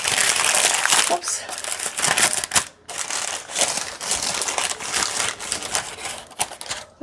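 Baking paper being handled and crumpled while making homemade crusty bread, loud close crinkling and rustling in repeated bursts with brief pauses, under a voice speaking.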